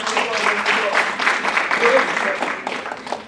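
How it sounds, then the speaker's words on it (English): Audience applause at a student leadership academy winter workshop, a dense steady patter of many hands lasting the whole stretch, mixed with faint voices and cheering in the room. "Round of applause."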